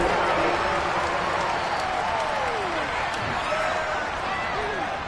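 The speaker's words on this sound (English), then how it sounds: "Plenty of shouts from this crowd as they watch the replay." Stadium crowd in a Madden 23 football game shouting and cheering during a replay, a dense, steady roar of many voices with whoops rising above it for the whole stretch, with no commentary over it.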